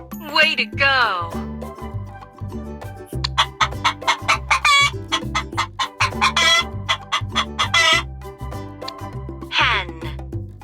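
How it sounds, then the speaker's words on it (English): A hen clucks repeatedly in quick, rhythmic bursts with a few drawn-out squawks, close and loud over upbeat backing music; a voice can also be heard. "Hen."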